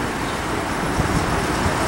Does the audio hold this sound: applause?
no